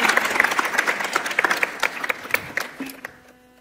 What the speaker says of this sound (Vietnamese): Chúng ta dâng cho Chúa một tràng pháo tay.